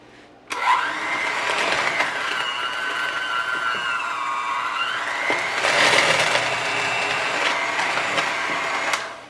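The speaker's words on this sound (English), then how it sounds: "we're gonna go ahead and give that a good mix with our hand mixer" Electric hand mixer whirring steadily through cream cheese and vanilla, a loud, close, continuous motor drone with the pitch dipping and rising as the beaters work the stiff mixture.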